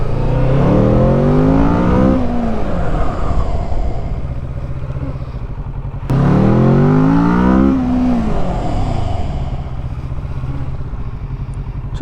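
A Kawasaki Z650 motorcycle with a new aftermarket exhaust revs hard twice, each run climbing loud and rasping through the gears before easing off into a steady drone, close and dominant.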